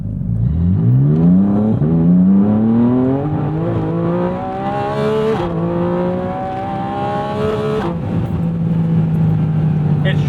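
A Porsche flat-six engine pulls hard at full throttle, its tone climbing steadily in pitch through the gears with a brief shift break, loud and close.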